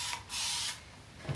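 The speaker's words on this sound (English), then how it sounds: "I get my spray bottle and I spray the water on top like this" Two quick bursts of water from a spray bottle mist onto braided hair. The first is brief and the second is a longer hiss, both soft and close in a quiet room.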